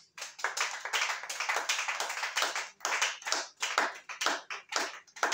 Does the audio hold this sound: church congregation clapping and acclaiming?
yes